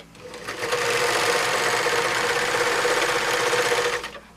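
A serger overlocker runs fast across fabric in one continuous buzzing burst of about three seconds, close and loud, ramping up at the start and stopping abruptly.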